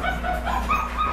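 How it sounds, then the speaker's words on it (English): Shepadoodle puppies in a tub let out a quick run of high, overlapping yelps and whimpers, close and fairly loud, without any voices. "I got three of them in a tub right now, so they're screaming"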